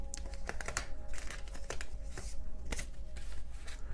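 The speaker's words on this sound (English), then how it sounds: "let me clear the board because I used a lot of cards for you." Tarot cards gathered up and shuffled off a reading board, a steady run of close, crisp papery flicks and slides lasting several seconds, with no talking.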